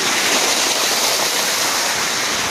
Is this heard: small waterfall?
yes